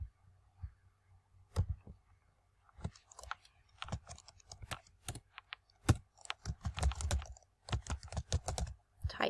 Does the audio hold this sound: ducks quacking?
no